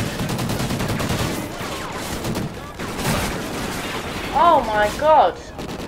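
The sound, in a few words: gunfire in the video game Call of Duty Ghosts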